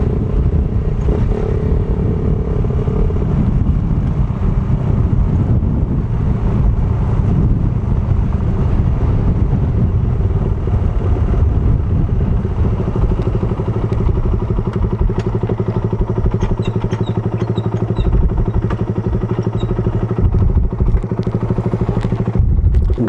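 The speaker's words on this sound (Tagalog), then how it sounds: "Mahina na yung motor natin." A Yamaha STX personal watercraft engine running weakly during restoration: a loud, steady low rumble and drone with clattering mechanical knocks, a lower hum settling in partway through and faint rattles near the end, with no voices.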